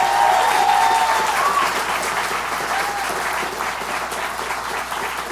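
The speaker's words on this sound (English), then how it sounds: "Can we give him another round of applause?" Audience applause at a CreativeMornings New York event, a steady wash of clapping from a room full of people that slowly tapers, with a few voices calling out.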